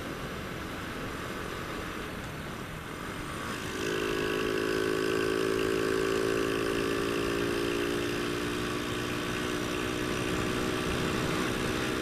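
A Honda Astrea Grand motorcycle engine idles, then revs up to a louder, steadier droning roar that holds for several seconds, heard close and alone without talk.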